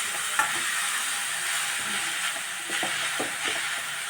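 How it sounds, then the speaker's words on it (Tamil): Sliced radish sautéing in a pan for radish chutney, a steady close sizzle and frying hiss running throughout with occasional soft clicks of a spoon stirring, no voices. "இப்போ வந்து நம்ம கொஞ்சம் வதக்கிட்டு இருக்கிறோம்"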